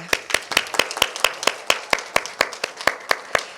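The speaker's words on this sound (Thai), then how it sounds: "ขอเสียงปรบมืออีกครั้งค่ะ" A single person claps hands in a steady, evenly spaced rhythm, close and distinct, during audience applause for a speaker at a Thai breastfeeding foundation ceremony.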